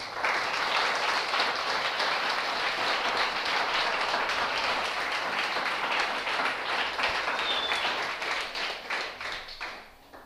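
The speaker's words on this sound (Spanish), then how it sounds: "Démosle un fuerte aplauso al Señor." A church congregation gives a strong, sustained round of applause, dense clapping from many hands that holds steady and then thins and fades toward the end.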